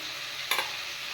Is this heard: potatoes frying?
yes